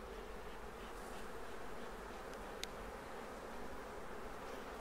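Honeybees swarm around an open nucleus colony hive, a dense, steady buzz that fills the air close by without pause, broken only by one faint click.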